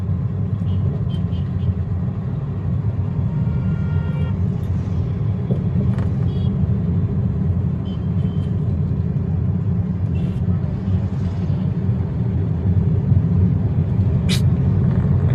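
Steady road traffic rumble with cars and a bus passing close by, an air-brake hiss near the end, continuous and fairly loud throughout with no clear speech.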